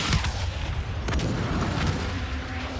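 Heavy gunfire and explosions in Call of Duty: Black Ops III, a loud, dense barrage of booming blasts and rattling shots that continues without pause through the whole stretch.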